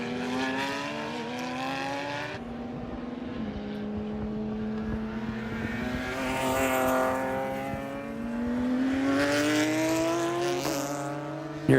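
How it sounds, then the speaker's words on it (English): A BMW race car at Homestead-Miami Speedway screams past with its engine note climbing through gears, then several more cars follow in a continuous, loud roar with rising and falling pitch. "Here's that number 47, the BMW we were talking about of Justin Levine."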